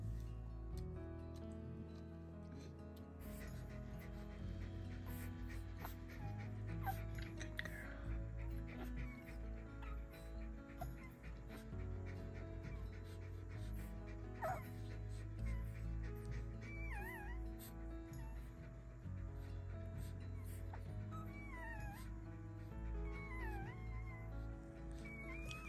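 A goldendoodle in labour gives high, thin whimpers and soft yips, close and intermittent over steady background noise with occasional faint voices.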